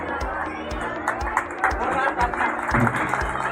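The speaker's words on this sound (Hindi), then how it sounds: "तालियां बजती रहे।" Audience applause at a school ceremony in Indore, with rapid, scattered hand claps and crowd chatter, voices mixed in throughout.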